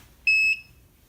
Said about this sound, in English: gonna beep at me before it starts moving